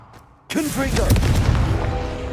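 A Confringo spell blast in Hogwarts Legacy erupts as a sudden loud boom after near silence, followed by a sustained rumbling, crackling roar, with a voice calling out over the start.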